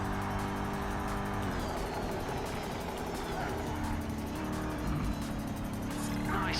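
Race car in Project CARS 3 racing game: a steady, droning engine holds through corners with slight pitch shifts, continuous and moderately loud, with a voice talking over it.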